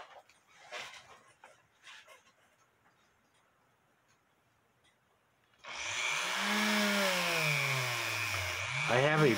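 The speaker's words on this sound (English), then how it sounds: "I'm going to take my Dremel to these plates" A Dremel rotary tool fitted with a brass brush cleans brass cuckoo clock plates, spinning up to a loud, close, steady high whine that wavers in pitch after a few quieter handling noises.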